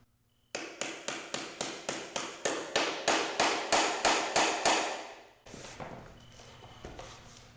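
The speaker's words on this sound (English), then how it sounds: "use the hammer and firmly tap it down." A hammer taps a cap down onto a wheel of a pure water system unit, striking about fifteen quick, firm, evenly spaced blows in a steady rhythm, close and clear, followed by softer handling noise.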